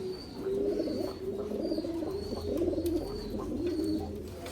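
Mardin Havana pigeons coo steadily in soft, repeating throaty phrases, close by, with faint chirps and a steady background hum.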